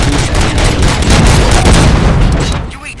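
Dense, loud gunfire and booming blasts in the video game Robocop: Rogue City, a continuous rapid barrage of shots with a voice speaking over the noise.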